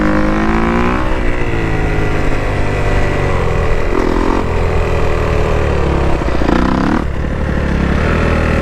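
Motorcycle engine pulling hard in fifth gear without the clutch for a wheelie, a loud, steady roar with the pitch climbing and then dipping as the gear shifts, close to the rider.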